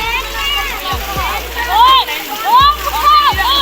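Water splashes in bursts nearby while children shout and chatter playfully over it, playing a game in the water at a village motor pump.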